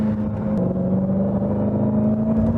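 A Dodge SRT Hellcat engine accelerating hard out of a corner, a loud steady droning roar with a strong sustained tone, close and continuous for a couple of seconds.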